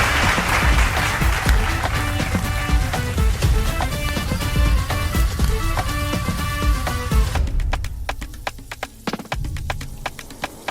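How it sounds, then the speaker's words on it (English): A studio audience at a cooking competition show claps for the judges, the applause mixed with upbeat music that drops away near the end, leaving scattered claps. "let's give our judges a round of applause as they exit the stage."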